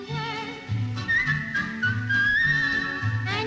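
Someone whistles a melodic tune from a Disney song, clear and sustained with bouncy accompaniment beneath it, no voices.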